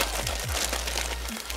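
A plastic parcel bag from an AliExpress order crinkles and rustles as it is handled during unboxing, a close, continuous crackling with a few soft crunches and no talking.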